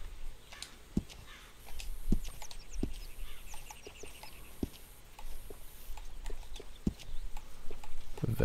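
Horse hooves clip-clop at a steady walking pace in Red Dead Redemption 2, moderately close, with birdsong and outdoor ambience around them.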